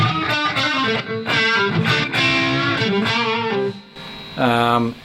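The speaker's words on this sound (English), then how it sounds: "gone from a full-on saturated distortion to more of an overdriven edge of breakup sort of" A Fender Stratocaster electric guitar played through an overdriven edge-of-breakup tone, sustained chords and bright picked notes ringing with mild grit, steady and close, with a short pause before a final strummed chord.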